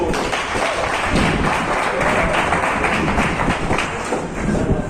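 Loud, dense clapping from an audience at a certificate-awarding ceremony in Togo, a close, continuous patter of many hands with some thumps mixed in, lasting the whole stretch without talk.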